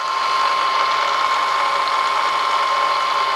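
A used Bridgeport Series 1 vertical milling machine, 9 by 48 inch table, runs in high range at about 2,600 RPM, giving a steady, close mechanical whir with a constant tonal hum and no talking.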